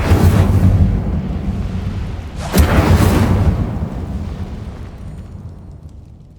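The Incendio fire spell from the wizarding game Hogwarts Legacy bursts with a loud, roaring whoosh of flame, a sharp crackling flare in the middle, then a fiery rumble fading away.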